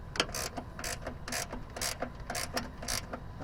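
A wrench tightening bolts during a broken strut replacement on a 2011 Nissan Sentra, giving quiet, regular ratcheting clicks in short bursts roughly twice a second, close by with no speech.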